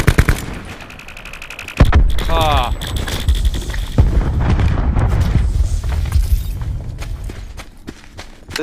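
Cluster grenade blasts and gunfire in Call of Duty Blackout, a sudden loud burst of rapid explosions and shots followed by continued rumbling battle noise, with speech over it.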